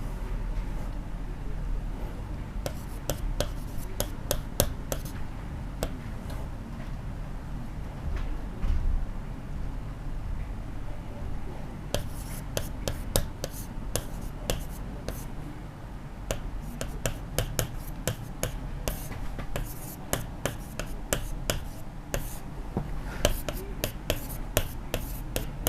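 Chalk or marker writing on a board during a Class 12 maths lesson on integration, heard as sharp, rapid taps and scratches in bursts over a steady low room hum. No one speaks.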